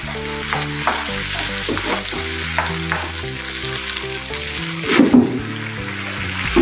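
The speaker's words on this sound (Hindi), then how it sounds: "टमाटर अच्छे से पक रहे हैं" Finely chopped tomatoes fry for chole in a pan, giving a loud, close, continuous sizzle with spoon stirring and scraping throughout and a busier burst near the end. Steady background music plays underneath and no one speaks.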